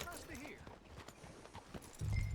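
Horse hooves clip-clop in the open-world western game Red Dead Redemption 2, a few scattered hoofbeats under a man's speech and faint background ambience, with a louder low thump near the end.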